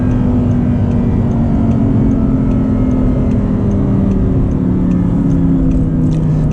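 Audi R8 V10 with a manual gearbox cruising on a highway in winter, a steady loud engine drone with slowly shifting tones and heavy road rumble, continuous throughout with no talking.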